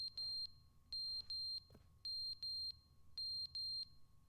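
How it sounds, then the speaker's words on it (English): A smoke alarm in The Stanley Parable video game chirps in short, loud, high electronic beeps, arriving in paired and triple bursts with gaps between them, over a low background hum. "Is it the batteries in the smoke alarm are dead?"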